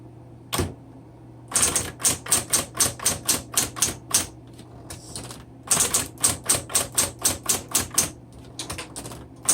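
Rapid, evenly paced mechanical clacks of a 1970s Smith Corona Electra 120 electric typewriter typing in bursts, with a low steady hum from a room heater underneath.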